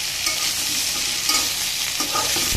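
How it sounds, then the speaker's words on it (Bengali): Broad beans and potatoes fry in a pan with a dense, steady sizzle and occasional stirring scrapes, close and alone without talk. "এবারে সিম আর আলুটাকে একটু ভেজে নেব।"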